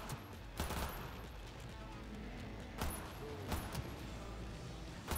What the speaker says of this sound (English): He's just sitting there getting pelted in the head with bullets.